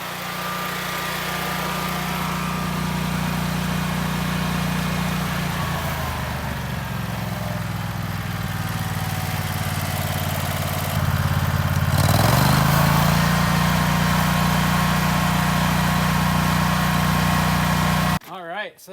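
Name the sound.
Generac 17,500 watt generator engine idling down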